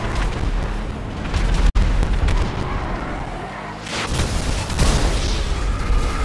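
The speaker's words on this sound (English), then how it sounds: "God damn, explosions." Heavy booming explosions in GTA Online rumble continuously with a brief sharp break, then more blasts roll in, loud and dense like a chaotic battle scene.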